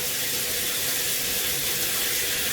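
Running tap water pours steadily while hair is rinsed after lathering, a constant broadband rush that stays even and close throughout, with no voices.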